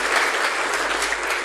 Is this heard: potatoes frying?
no